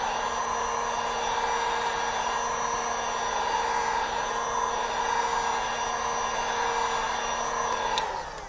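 Heat gun blowing on an airbrushed denim jacket, a loud, steady close-up roar of rushing air that runs unbroken until it is switched off with a click near the end.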